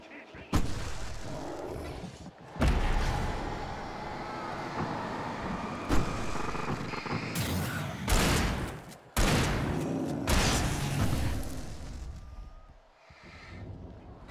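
Shotgun blasts and combat noise in the video game Alan Wake, a few loud booming shots separated by gaps over a dense, rumbling game soundscape.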